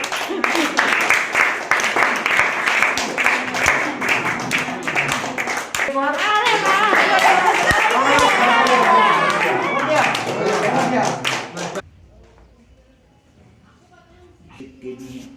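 Children at a vaccination camp clap loudly in a thick burst of applause with excited young voices mixed in, before the clapping cuts off and the scene falls quiet apart from faint sounds.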